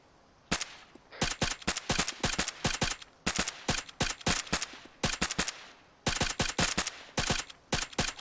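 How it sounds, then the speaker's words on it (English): Rapid bursts of rifle gunfire crack out in close, loud volleys during a firefight in The Division, short clusters of shots separated by brief pauses with no talking. "I'm gonna start firing"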